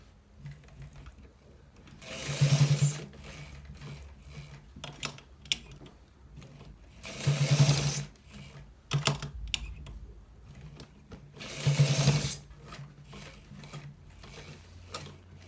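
A sewing machine stitches a designer collar shirt in three short rattling bursts, each a couple of seconds long and separated by pauses filled with quiet fabric handling and clicks.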